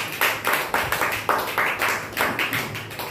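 A church congregation at a Sunday worship service claps in a steady rhythm, about a dozen sharp claps in a row, loud and close with no talk over them.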